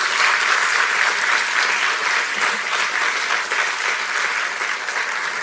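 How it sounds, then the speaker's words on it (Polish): Studio audience applause on a Polish quiz show, a dense, steady wash of many hands clapping at full volume throughout, with no talk over it. "Ogromne brawa dla ciebie."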